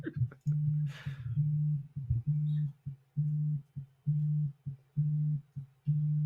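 A company phone lying on a chair vibrates and buzzes through a nearby microphone in a steady on-off pulse of low hums, with a brief voice near the start.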